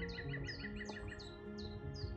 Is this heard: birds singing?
yes